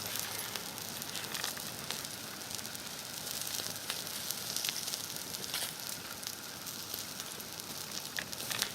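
Meat cooks on coals over an outdoor campfire, making a faint, steady hiss with scattered soft crackles and pops throughout.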